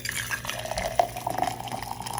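Hot water pours into an ISTOYO insulated tumbler, a steady close liquid splash and trickle with faint dripping, running through the whole short moment with no talking over it.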